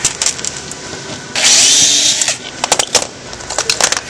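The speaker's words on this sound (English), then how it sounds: "So pre-drill this." A power drill whirs briefly in a steady burst, pre-drilling a hole while fitting an exhaust port filler panel on a 2005+ C6 Corvette, surrounded by close scraping and tapping sounds of handling wood.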